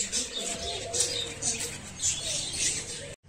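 A home collection of pet budgies chirps and twitters in a steady busy chorus, close and continuous, with brief cooing notes mixed in and no talking.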